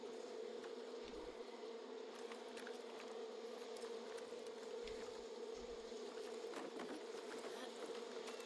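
Bees in the video game Far Cry 5 buzz in a steady, continuous drone that sits low but holds throughout, with no talking over it.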